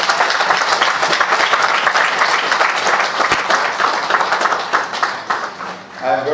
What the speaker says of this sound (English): take some time with a resounding round of applause to the Salvation Army